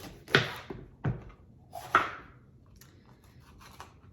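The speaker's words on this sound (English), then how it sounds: "So you can see how beautifully that is cutting the pepper." A kitchen knife slices through a bell pepper on a cutting board: three or four distinct crisp cuts and board knocks spaced about a second apart, close and clear, followed by quieter handling with no speech.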